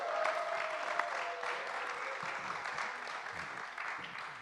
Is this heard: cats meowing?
no